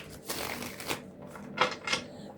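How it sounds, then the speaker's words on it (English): Tarot cards shuffled by hand in a few quick riffling bursts, close and moderately loud, with soft papery slaps between. "So let's shuffle."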